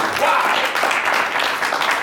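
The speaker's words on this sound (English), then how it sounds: "So that deserves a round of applause." Audience at a boxing press conference breaks into applause, a dense, steady wash of clapping that fills the whole short stretch at close range.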